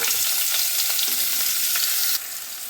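Chopped tomatoes fry in about a spoonful of ghee in a kadai, giving a dense, close crackling sizzle with stirring scrapes that abruptly eases slightly near the end.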